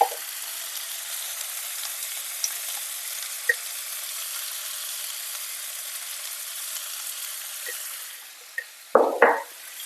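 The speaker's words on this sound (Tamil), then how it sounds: "இதை ஒரு 2 நிமிஷம் நல்லா வதக்கி எடுத்துக்கலாம்." A pan of tomatoes with salt hisses with a constant soft sizzle, broken by a few light taps, then loud clattering stirs as the contents are tossed near the end.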